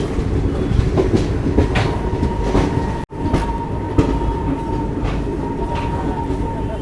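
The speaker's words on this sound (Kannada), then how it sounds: "ಯಶವಂತಪುರ ಗರೀಬ್ ರಥ್ ಎಕ್ಸ್ಪ್ರೆಸ್ ಎಂಟ್ರ್ ಆಗೈತ್ರಿ ಈಗ ಲಿಂಗಂಪಲ್ಲಿ ಬರುತ್ತಾ ಇದ್ರ" The Yeshwantpur Garib Rath Express, an ICF coach train, rolls into Lingampalli station outside Hyderabad with a loud, continuous rumble and rhythmic clickety-clack of wheels over rail joints, heard from on board.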